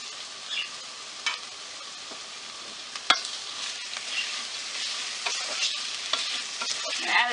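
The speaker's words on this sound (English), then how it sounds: "we're just going to keep stirring it until it completely absorbs" Shrimp risotto being stirred in a pan, giving a soft continuous sizzle with scraping stir strokes and one sharp clink partway through, fairly quiet and close.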